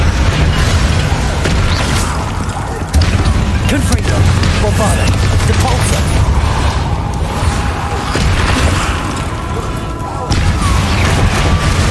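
Explosive spell blasts in the Hogwarts Legacy video game, with heavy booms and crashing impacts packed densely and continuously at high loudness, forming a relentless battle din.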